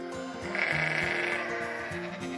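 Sheep bleat in a sustained, wavering cry over a steady farm-animal background, close and moderately loud, with no talking.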